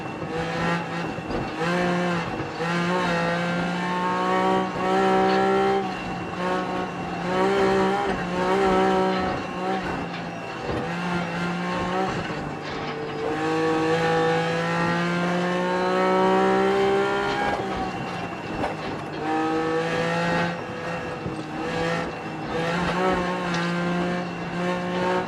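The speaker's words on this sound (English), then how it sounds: "so you just have the engine sound" Rally car engine in Assetto Corsa Rally with no co-driver calls, revving loudly and steadily through rising and falling gear pulls, with brief tire squeal and skids over nearly half a minute.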